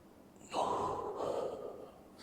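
A deep inhaled breath taken during a hip exercise workout, a close, breathy rush lasting about two seconds with no talking over it.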